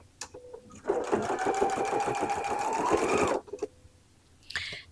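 A sewing machine stitches back and forth over quilt binding in a steady, fast mechanical whir that runs for a couple of seconds, then stops with a few soft clicks and a brief handling noise afterward.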